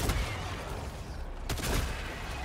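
Crossbow shots in the video game Helldivers 2, two dense bursts of impact and firing noise in a loud, busy battle mix, the second sharp crack landing midway through.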